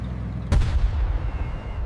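A single heavy cannon blast from a Sherman Firefly tank cracks out sharply, then a deep rumbling boom rolls and fades over the next second.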